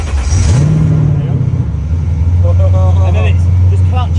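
A McLaren 720S supercar engine cranks and fires up with a sharp rev flare, then settles into a steady, loud idle drone, heard up close with people talking over it.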